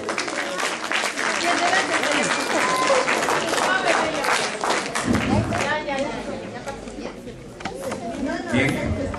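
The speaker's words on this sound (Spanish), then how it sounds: "a quien recibimos con un fuerte voto de aplauso" An audience at a Mother's Day event at a private institute applauds in welcome, dense crowd clapping mixed with chatter that thins midway and then swells again.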